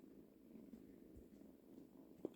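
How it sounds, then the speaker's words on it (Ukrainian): Soft, steady purring of two kittens rumbles close by, a low continuous drone with a faint click near the end. "О, вже двоє мурчать."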